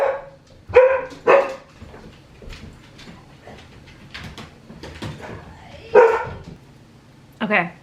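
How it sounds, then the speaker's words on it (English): A dog barks at falling snow in short sharp bursts, several separate barks and yips spread across the scene, with a person talking in between. "You don't need to bark at snow!"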